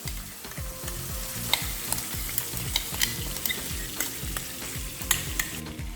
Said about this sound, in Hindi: हमें इस पूरे मिक्सचर को 4 से 5 मिनट तक हाई फ्लेम पर ही भूंजना होगा